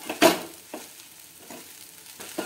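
Poha being stirred and mixed in a pan, with one sharp scrape of the spoon near the start and several softer stirring strokes after it, faint and without talk.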